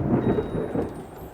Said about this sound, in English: the wind howled down Baker Street, while the rain beat fiercely against the windows